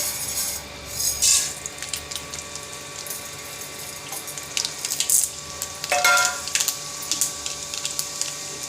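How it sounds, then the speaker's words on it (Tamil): Mustard seeds and urad dal fry in hot oil with a steady close sizzle, broken by scattered crackles and small pops that build toward the end. "இப்போ நம்ம கடுகு உளுத்தம் பருப்பு சேர்த்துக்கலாம்."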